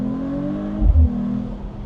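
A 2025 Mercedes-AMG CLE 53 Cabriolet accelerating hard, its engine note rising in pitch from inside the car, with a brief low thump midway and the drone continuing to climb.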